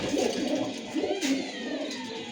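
Silver Baga Notti pigeons in a breeder's loft give soft, rolling coos, near but not loud, over a steady background hiss.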